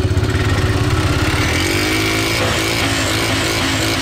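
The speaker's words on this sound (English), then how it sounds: "Oh yeah, the clutch is slipping" A cheap ATV quad engine revs hard on sand dunes with its clutch belt slipping, a loud, steady buzzing drone that wavers in pitch without gaining speed, close up and alone.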